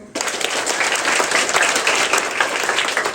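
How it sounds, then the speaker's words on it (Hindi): An audience at a spiritual talk applauds together at a steady, dense level, with loud, continuous clapping from many hands that starts abruptly and carries on throughout. "गॉड के बच्चे ताली बजाओ"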